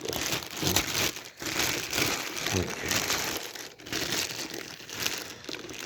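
Plastic wrapping being pulled off a length of 0-gauge (1/0) amplifier power wire, a steady close crinkling and crumpling with brief pauses, continuing for several seconds with no talking.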